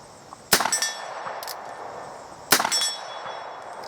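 A bullet from a Charles Daly 1873 single action revolver strikes a steel target with two sharp metallic clangs about two seconds apart. Each ring is moderately loud and decays quickly over a quiet outdoor background, with no talking.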